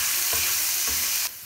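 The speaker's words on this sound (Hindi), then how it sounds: "हल्का सा हमने इसको फ्राई कर लेना है तो इसमें से अच्छी सी खुशबू आने लगे।" Garlic and ginger frying in a pan, a loud dense sizzle with two soft stirring scrapes, then the sizzle drops abruptly near the end; no voices.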